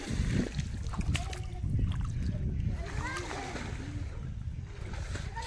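Children splash and swim in shallow river water, with choppy, irregular splashes close by while adults and kids talk over them throughout.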